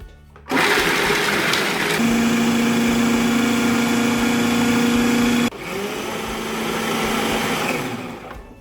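Bladed food processor chopping almonds: a loud, steady motor whir starts abruptly, holds with a sustained whine, then drops to a slightly lower grinding pitch as the nuts break down, with no talking.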